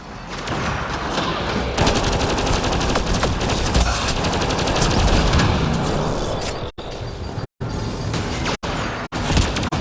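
Dense, loud sustained gunfire rattles in the sci-fi game Mass Effect Andromeda as a turret fires continuously, a dense barrage with booming impacts that cuts out abruptly in a few sharp breaks near the end.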